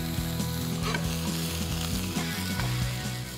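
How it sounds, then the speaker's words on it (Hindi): Cubed tofu added to a vegetable stir fry, sizzling loudly and steadily in a hot pan, with a run of regular scraping and tapping as it is tossed, close up and with no talk. "इसके साथ साथ हम इसमें टोफू भी डाल देंगे, 100 ग्राम टोफू."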